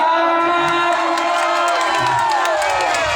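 A loud concert crowd in Chanthaburi, Thailand cheers and shouts continuously, high excited voices mixing into a dense roar, with scattered clapping and whoops throughout.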